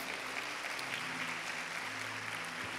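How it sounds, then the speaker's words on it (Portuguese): A church congregation applauding strongly at a Holy Communion service, a steady wash of many clapping hands with a low organ or keyboard tone held beneath. "Pode dar uma salva de palmas forte."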